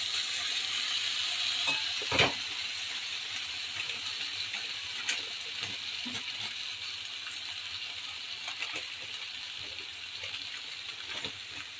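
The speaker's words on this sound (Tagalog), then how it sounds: "lalagyan ko ng tubig para lumambot yung noodle" Water is added to noodles cooking in a large pot, giving a steady close sizzle and bubbling hiss with occasional clinks and stirring knocks.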